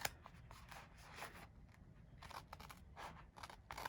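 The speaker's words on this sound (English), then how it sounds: "So, where are my scissors? Okay, so I normally just cut this in half." Scissors cut a sheet of scrapbooking paper in half, giving a series of soft, quick snipping and crisp paper-slicing sounds, close and quiet, with no talking.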